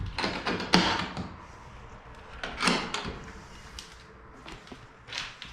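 Wooden doors on a tall custom-built reptile cage, about five feet high and four wide, swing open and shut with several knocking clacks and rattles at irregular intervals, close by and alone.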